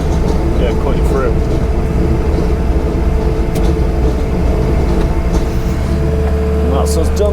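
A pothole fixing machine cutting through a road surface, a steady loud grinding engine drone that runs throughout, with people talking over it.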